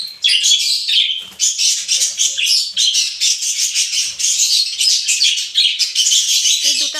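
Tame pet lovebirds chirp and squawk continuously in shrill, rapid overlapping calls, loud and close, with no talking.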